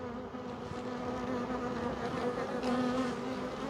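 Honey bee drones buzz steadily in a bee yard, a close, continuous insect drone with a constant pitch and no pauses for the whole stretch.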